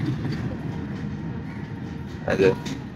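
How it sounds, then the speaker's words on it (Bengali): A train passes through Darshana international railway station with a low, steady rumble of moving rail cars, rising briefly near the end, as faint voices murmur in the background. "দর্শনা আন্তর্জাতিক রেলওয়ে স্টেশন অতিক্রম করছে"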